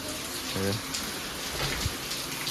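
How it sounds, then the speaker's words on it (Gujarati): Heavy rain falls in a constant wash of noise on a house whose kitchen is flooding, with a short burst of voice near the start. "બહુ વરસાદ આવે છે"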